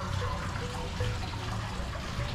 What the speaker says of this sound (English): there's some little water fountain